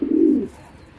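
A breeder white racer pigeon gives a single short, low coo, close and clear, fading into quiet room noise.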